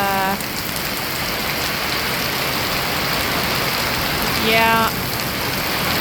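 Heavy flash rainstorm pouring down outdoors, a dense, loud, unbroken hiss of rain on surfaces filling the whole stretch, with a brief tonal beep near the start and again near the end.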